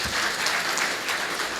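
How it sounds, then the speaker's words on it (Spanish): A church congregation applauds a married couple marking their wedding anniversary, a full, even burst of clapping that holds throughout. "Un aplauso para ellos."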